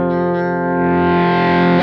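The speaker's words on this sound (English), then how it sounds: "Really high gain sound." A heavily distorted, high-gain electric guitar chord from a Kemper Profiler rings out loud and sustained, thick with harmonics and a touch of reverb.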